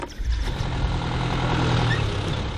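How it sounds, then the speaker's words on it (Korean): A builder's truck pulls up beside a riverside sand pile to buy sand, its engine a loud, steady rumble that fills the whole moment with no voices. "잠시 후 요란한 차 소리가 들립니다."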